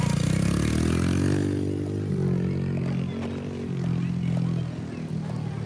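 Motorcycles pit riding at a drag race event rumble and rev nearby, the engine note rising and settling amid clatter and scraping, with people talking over it.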